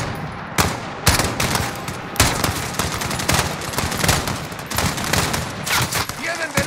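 Heavy gunfire in the Modern Warfare video game during a night assault on the American embassy, with dense bursts of automatic fire and sharp repeated shots close by, plus shouted voices mixed into the battle.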